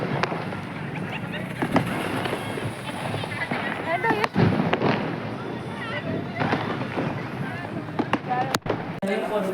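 Sharp firecracker bursts crack out now and then through a steady crowd noise during Diwali, with people chattering and calling nearby.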